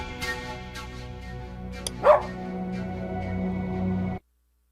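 A dog barks in a cutscene from the 2022 video game Tad the Lost Explorer: a single short bark rises over a steady musical bed of held tones, which then cuts off abruptly.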